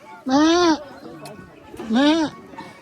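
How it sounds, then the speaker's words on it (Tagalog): Two loud, close goat bleats, each a wavering nasal cry about half a second long, separated by a brief quiet gap. "Ito kabra. Kabra. Ito kabra."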